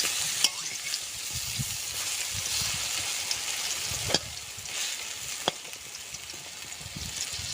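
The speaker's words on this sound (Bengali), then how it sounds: "এই পিঠটাও সুন্দর করে ভেজে নেব" Banana flower fritters fry in a pan of oil, a steady close sizzle with a few sharp clicks as they are turned and stirred.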